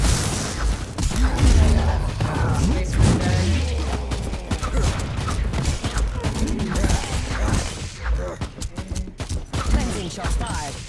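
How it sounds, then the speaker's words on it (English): Gunfire in the game Warhammer 40,000: Inquisitor – Martyr, dense bursts of rapid shots and booming impacts layered over a chaotic battle soundscape, loud and nearly continuous before thinning toward the end, with a voice briefly present. "Shots fired."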